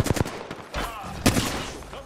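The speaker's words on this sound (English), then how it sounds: "I'm getting shot." Gunfire in a military shooter video game, several sharp shots and short bursts landing around the player over about two seconds, loud and close, with a few clipped voice sounds mixed in.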